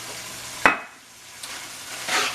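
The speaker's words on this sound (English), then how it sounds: "Always make sure you're looking at your meat because the stuff's cooking fast" Meat sears in a hot pan with red wine vinegar just added. A sharp clack of the pan or utensil gives way to a soft, swelling sizzle hiss, close by and with no talking.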